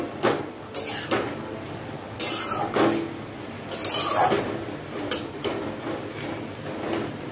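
Chicken pieces cooked without oil being stirred with cumin powder in a pan, giving several scraping and clinking utensil strokes at an even nearby level with no talking.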